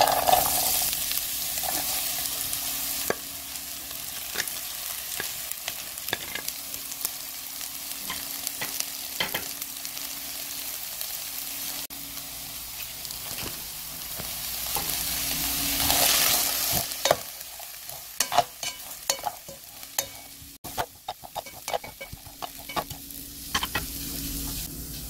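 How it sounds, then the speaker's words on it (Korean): Scallions fry in hot oil in a pan on an electric cooker, a continuous crackling sizzle with scraping stirring strokes throughout, softening midway then flaring up with sharp spatters. "기름 두르시고요. 파 향을 먼저 내기 위해서 파를 먼저 넣을게요."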